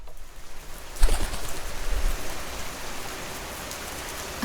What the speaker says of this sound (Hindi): लगता है बारिश और बढ़ने वाली है